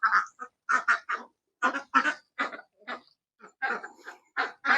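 Muscovy ducks raised on a farm give a series of short, hoarse quacks in irregular bursts, fairly close and clear with silent gaps between calls.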